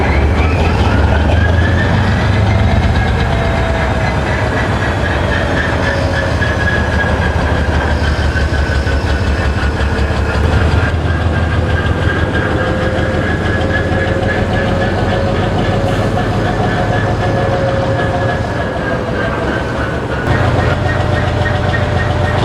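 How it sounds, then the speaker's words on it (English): A Soviet twin-section diesel locomotive with a 10D100 engine rumbles at Tikhoretskaya Depot, a loud, deep continuous diesel growl with a droning whine that slowly shifts in pitch, close by and steady throughout. "locomotive, rumbles to life with a deep diesel growl at Tikhoretskaya Depot."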